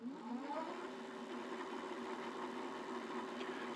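The motor of a Mokwheel Basalt fat-tire e-bike runs steadily on the throttle, a continuous mid-pitched whine and whir that is fairly close and holds level throughout, with no voices.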